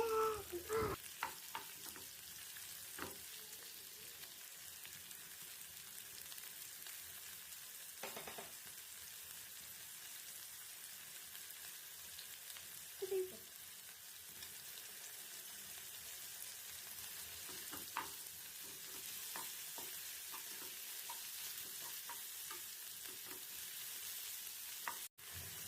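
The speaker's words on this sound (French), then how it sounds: "j'ajoute un peu d'huile végétale. Et une fois chauffé, j'ajoute les oignons." Onions frying in heated vegetable oil in a pan, a faint continuous hiss of sizzling with a few soft clicks and stirring touches, distant and quiet throughout.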